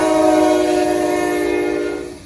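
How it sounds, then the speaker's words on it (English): A train horn blows in the Dayton area of Ohio, a loud sustained blast with steady tonal layers over rail rumble that trails off near the end. "you don't have to wait long to see a train come by"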